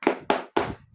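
Schoolchildren in an Indonesian classroom do a rhythmic spirit clap, three crisp, close claps landing in an even beat within one second.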